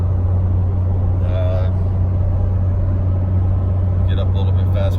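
A 2014 Ram 2500 Cummins diesel pickup with an S465 turbo cruises at highway speed around 1800 rpm, a steady deep engine drone and road rumble from inside the cab, with a few faint higher tones over it.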